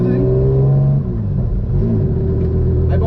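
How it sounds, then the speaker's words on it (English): The front engine of a twin-engine Suicide MX3 car runs alone while warming up, a loud, close, droning rumble that shifts pitch slightly as it revs, with someone talking over it. "I've only got the front engine running. I'm just warming it up, making sure everything's okay."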